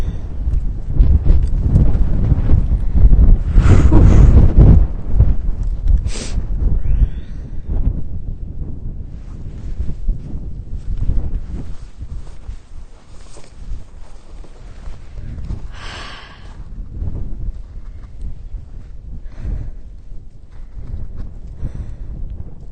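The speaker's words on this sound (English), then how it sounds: "really windy all of a sudden" Strong wind on a snowy Rhode Island beach, heavy gusty buffeting against the microphone that swells loudest early on, then eases into uneven rumbling gusts with a few thuds.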